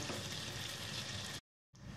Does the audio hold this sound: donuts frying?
yes